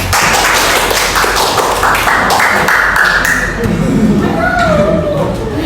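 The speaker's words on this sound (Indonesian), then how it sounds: "Tepuk tangan." Classroom of students applauding together, a loud, sustained burst of clapping with some voices mixed in, continuing without a break.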